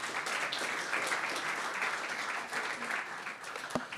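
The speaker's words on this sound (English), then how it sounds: "Please, round of applause." Audience applause after a talk at a DevConnect conference session in Argentina, a steady wash of clapping from a crowd that holds evenly for about four seconds, with no speech over it.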